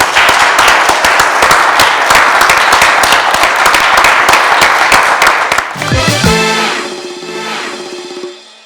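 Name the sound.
audience applause and clapping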